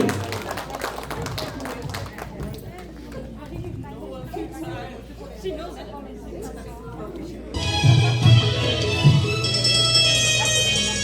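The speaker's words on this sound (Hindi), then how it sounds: "अब बिग तालियों से उनका स्वागत कीजिए।" An audience claps to welcome singers onto a stage at a music event, scattered claps mixed with crowd chatter before music with sustained tones swells in partway through.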